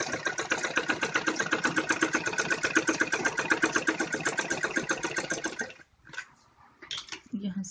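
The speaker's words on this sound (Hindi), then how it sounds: "ऐसे पूरे में सिलाई लगानी है हमको इसमें।" Electric sewing machine running fast as it stitches a seam on a child's romper, a steady rapid needle chatter for about six seconds that stops abruptly, followed by a few quieter handling clicks as the fabric is moved.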